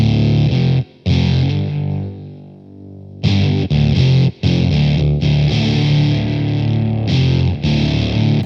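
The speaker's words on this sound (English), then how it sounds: "by rolling off your volume, as you can see, you can get that real dying battery sound out of it." Electric guitar through a fuzz pedal with the guitar volume rolled back for a sputtering, dying-battery tone: gated, broken chords and notes that cut out and return, loud and close, with no talking.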